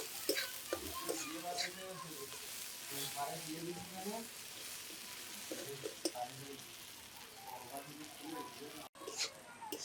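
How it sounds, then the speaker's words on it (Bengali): Salt and turmeric fry in hot oil for a Maya fish broth with onion and chilli. A soft, continuous sizzle with light stirring plays under a person speaking, with a few faint clicks. "লবণ, হলুদ একটু ভাজি ভাজি করে নেব"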